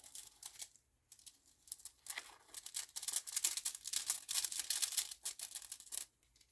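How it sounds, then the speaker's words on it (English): Small hard rune pieces rattle and clack inside a cloth bag as it is shaken, in irregular bursts, close up and fairly quiet. "I'm going to give it a good shuffle."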